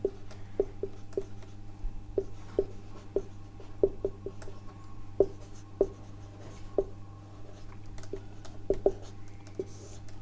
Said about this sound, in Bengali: আমি লিখছি